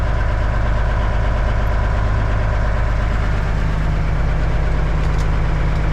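Diesel engine of a 1989 Kenworth K100E truck running steadily on fast idle, a loud, constant low rumble with an even throb that holds unchanged throughout, heard close and alone without talk.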